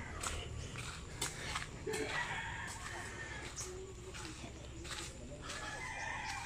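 Faint chickens clucking outdoors, with a rooster crowing somewhere in the distance.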